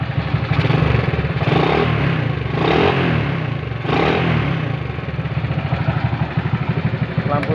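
A restored Honda C70 motorcycle engine idles smoothly and close by, a steady loud putter with a couple of gentle swells of revving, no voices over it.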